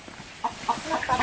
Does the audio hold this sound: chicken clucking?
yes